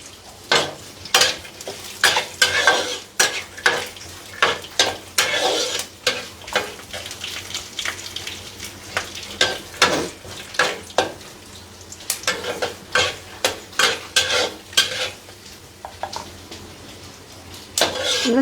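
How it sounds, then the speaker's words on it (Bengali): Native peanuts frying in a pan give a soft steady sizzle, broken by repeated loud scraping and clacking of a spoon stirring them, close by. "তো আমি আমাদের যে দেশি বাদাম, সেই বাদামটা একটু আগে দিই, কারণ এটা ভাজতে একটু সময় নেয়।"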